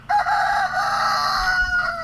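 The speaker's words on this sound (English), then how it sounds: "Anyways, this is the chicken coop." Chickens in a coop give a loud, close rooster crow that runs through most of the moment, with clucking from hens around it and no talking.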